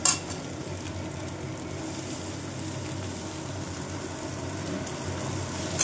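Chow mein noodles tossed in a pan with egg, onion, tomato and green chilli, making a continuous close sizzle with light stirring and scraping against the pan.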